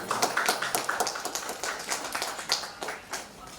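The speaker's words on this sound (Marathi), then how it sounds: "टाळ्या वाजून स्वागत कर साधू." A small audience at a 47th wedding anniversary gathering claps in welcome, a brisk run of light, irregular handclaps that gradually thin out.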